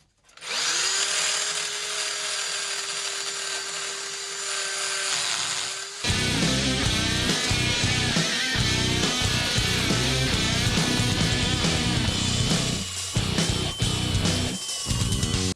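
A power drill whines steadily, then shifts into a louder, rougher grinding buzz as it bites into material, loud and close, continuing without pause, during bodywork repair on a Peugeot 106 rally car.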